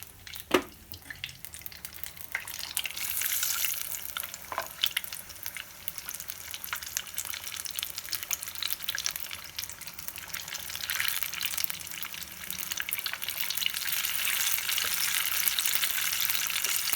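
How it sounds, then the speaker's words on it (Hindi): Paneer pieces dipped in batter and dropped into hot oil for pakoras, a close, hissing sizzle that swells and fades as more pieces go in, with a few sharp knocks early on and no talk. "और अब मैं पनीर को डिप करती हूँ बैटर में और फ्राई करती हूँ।"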